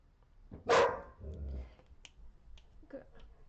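A puppy barks in a single sharp, loud burst near the start, followed by lower rumbling noise and a few faint clicks, fairly close with no talking.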